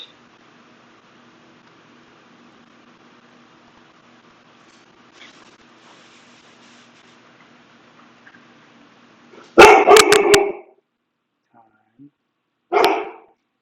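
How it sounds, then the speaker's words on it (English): A pet dog barking indoors during a home dinner: after a quiet stretch with faint background murmur, a sharp cluster of close, loud barks, then a single short bark a few seconds later. "That's my dog."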